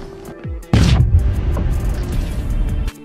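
A grenade goes off in an action film: a sudden, loud, close boom with a heavy rumbling tail that lasts about two seconds, after a faint low whoosh.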